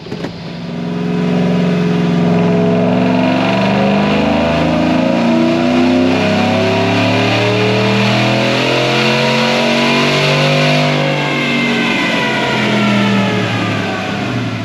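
A Procharged supercharged 5.3 Chevrolet Silverado engine revs loud and close, climbing through a long sustained pull with rising pitch that holds for over ten seconds before easing off, no talking.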